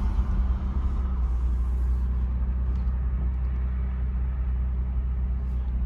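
A 1995 Toyota Land Cruiser, triple locked with a 4-speed automatic, drives along with a steady, close engine and road rumble running continuously and unbroken throughout.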